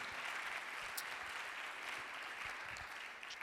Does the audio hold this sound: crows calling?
no